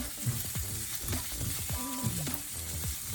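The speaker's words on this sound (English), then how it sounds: "A very cool way of making your onions cook fast is using a little bit of salt when you're sauteing it in the oil." Onions saute in hot oil with a pinch of salt for a spicy salmon curry, giving a steady close sizzle broken by repeated scraping stirs.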